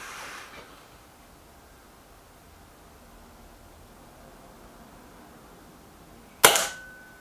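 A single sharp shot from a Kral Puncher Pro 500 air rifle during a target shooting match, a loud crisp crack near the end after several seconds of quiet background hiss, with a brief decaying tail.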